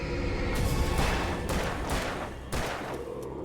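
Gunfire in Alan Wake Remastered: several loud, closely spaced shots boom over a dense, noisy game background, with a sharp report near the end.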